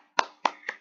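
Children's 'tepuk hebat' clapping chant in a first-grade classroom: three sharp, distinct claps in quick succession, close and crisp, with no voices over them.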